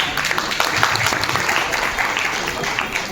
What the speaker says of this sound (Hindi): आइए सर, जोरदार ताली बजाएं।